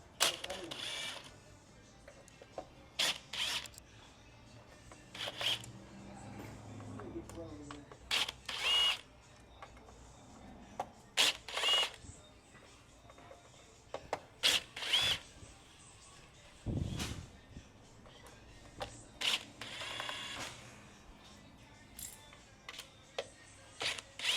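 A power driver with a Torx bit removes screws from a Begode Race electric unicycle wheel in several short whirring bursts, with quiet handling noises and someone talking in between.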